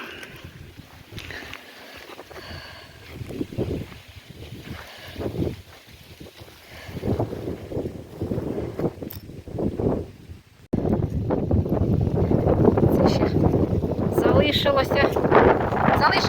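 Low, rumbling wind buffets the microphone in a harvested soybean field, with a voice speaking through the first part before the roar grows louder and steadier.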